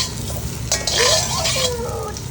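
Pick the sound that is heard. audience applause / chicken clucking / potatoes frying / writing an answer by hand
potatoes frying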